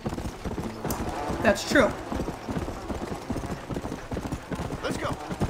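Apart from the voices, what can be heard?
horse hooves clip-clopping in video game Red Dead Redemption Undead Nightmare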